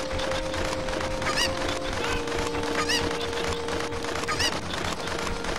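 A chicken in the video game Zelda Ocarina of Time gives a few sharp, repeated squawks and clucks over a steady background game tone, each call short and spaced roughly a second or more apart.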